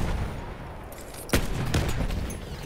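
Gunfire in the World War I shooter Battlefield 1, a sharp close shot standing out over a noisy battle background, followed by further fainter shots and rumbling.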